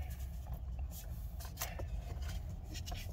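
Steady low road rumble from inside a moving car, constant engine and tire noise with a few faint clicks and rustles nearby, no one speaking.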